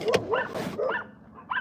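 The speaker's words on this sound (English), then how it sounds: "These fucking dogs are ruining life right now." Neighbourhood dogs bark and yip in a short run of repeated barks at moderate distance, a few sharp calls over about a second and a half, with no talk.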